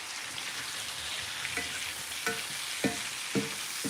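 Onions fry in grease in a pan for cube steak with gravy, giving a steady, broad sizzle with a few sharp clinks and scrapes from stirring near the end, and no talking.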